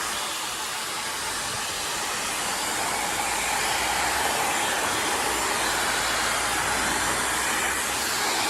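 A special-edition Dyson Supersonic hair dryer runs steadily, a close, loud and even airy hiss with a faint high whine that holds without a break and no voices.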